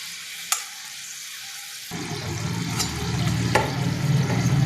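Mawa gujiya deep-fry in hot oil: near silence breaks into a loud, continuous bubbling sizzle that builds steadily, with a few sharp crackles and pops along the way.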